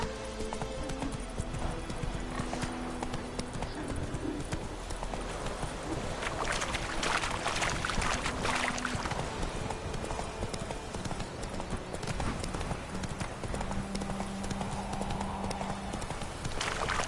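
In the video game The Witcher 3, a horse gallops with continuous rhythmic hoofbeats over ambient game sound, faint and steady throughout, with occasional soft tonal effects.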